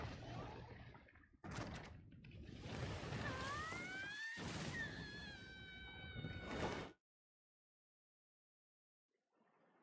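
A cat meowing in the video game Monster Hunter World, a loud drawn-out yowl with rising and falling pitch over game noise, ending abruptly in silence.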